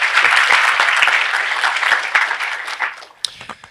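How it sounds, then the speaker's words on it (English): Conference audience at a hacker security talk in Quebec City applauding, loud dense clapping that stays full for a few seconds before breaking into scattered individual claps as it dies down. "Thank you for clapping."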